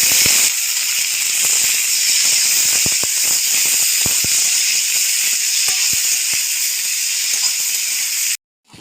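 Chopped vegetables drop into hot oil already fragrant with a dried red chilli and a fresh bay leaf, setting off a loud, steady, close sizzle full of crackles and pops that runs almost unbroken before cutting off abruptly near the end.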